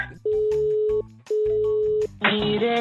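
After a prank phone call is cut off, a telephone line gives two long, steady, loud tones, each lasting about a second, and then a burst of harsh noise.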